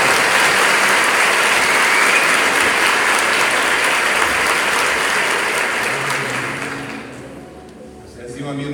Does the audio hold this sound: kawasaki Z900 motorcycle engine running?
no